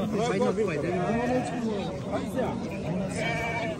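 Sheep bleat repeatedly at a livestock market, several wavering calls overlapping close by, with people talking and a murmur of crowd noise underneath.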